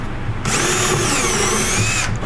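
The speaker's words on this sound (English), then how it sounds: "drill my hole. I'll go ahead and do this one as well." A power drill bores a hole through cabinet wood guided by a jig, a steady high whine running for about one and a half seconds, loud and close in a workshop.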